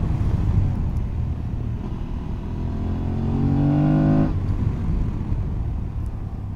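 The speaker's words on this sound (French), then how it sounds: "Tu entends le moteur ronfler." An Aprilia Tuareg 660 motorcycle engine rumbles steadily while riding, with a rising, louder surge of revs in the middle before settling back to a continuous droning hum.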